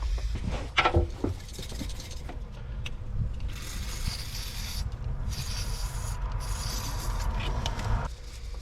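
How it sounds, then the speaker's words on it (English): A small screwdriver scrapes the connector pins of an air suspension wiring plug on a Range Rover L322, giving close, steady rubbing and rasping with a few sharper scratches. "I'm going to clean these pins, and I'm going to put it back together again"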